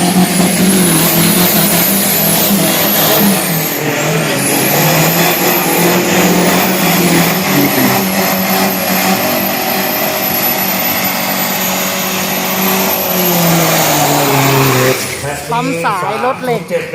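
Diesel pickup truck engine roaring loud and sustained at a Super Drag 2022 drag race event, with whining harmonics rising and holding, then a sharp change near the end as the engine note drops off, a voice mixed in.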